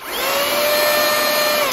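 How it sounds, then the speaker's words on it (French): Rechargeable handheld table vacuum cleaner running alone with a steady, close, high-pitched motor whine that holds constant throughout. "un petit aspirateur de table que j'aime beaucoup"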